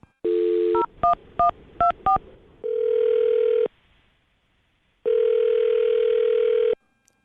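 A landline phone number being dialed: a steady dial tone, then a quick run of separate DTMF keypad beeps, followed by two long ringback tones with a pause between, clear and close.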